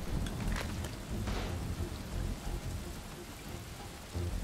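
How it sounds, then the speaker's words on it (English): Steady rain falls in the Desperados 3 video game, a dense, even hiss with low rumbling underneath that holds at moderate loudness throughout, with no talk over it. "Had to rain, huh?"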